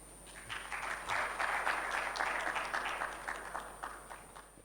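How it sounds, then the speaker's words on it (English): Steady applause from a crowd at a microfinance tech summit, a dense patter of many hands clapping at moderate volume, swelling slightly and then holding without voices. "May we please give him another round of applause?"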